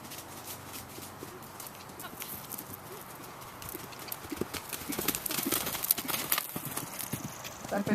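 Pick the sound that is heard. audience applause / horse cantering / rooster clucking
horse cantering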